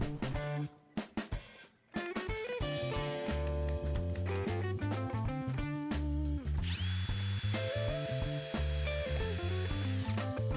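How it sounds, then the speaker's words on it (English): Power drill pre-drilling and driving screws into a wooden leg of a plywood outfeed table, with a steady loud whirring motor run that pauses briefly near the start, under background music. "pre-drilling and driving screws to permanently secure it"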